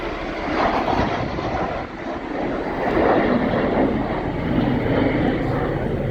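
Messerschmitt Me 262 jet fighter in a flying display at RIAT 2023, a loud roaring jet engine that swells and fades as the aircraft passes, with no speech.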